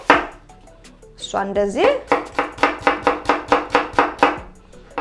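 Onion being chopped with a knife on a board for a rice dish, a quick steady run of about a dozen crisp, close knocks following a brief clatter and a few soft words from a woman.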